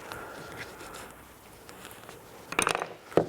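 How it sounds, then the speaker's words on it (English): An old screwdriver pries the main seal out of a Triumph Trident T160 motorcycle, giving a few quiet scrapes and then two short, sharp metallic clicks near the end, close up with no talk. "just get an old screwdriver, get underneath it,"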